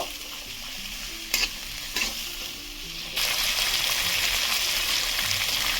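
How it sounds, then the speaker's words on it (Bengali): Drumstick curry with turmeric being stirred in a pan, a steady frying sizzle with a couple of sharp spoon scrapes, then the hiss swells louder as stirring continues. "দিচ্ছি অল্প একটু হলুদ গুঁড়ো, দিয়ে ভালো করে নেড়ে নেব।"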